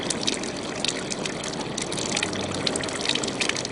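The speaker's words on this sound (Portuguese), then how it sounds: "Água pura, jorrando dia e noite há quase 260 anos." Water gushes steadily from an old stone chafariz fountain in the town of Sabará, Minas Gerais, a constant, close splashing and trickling rush with no voices.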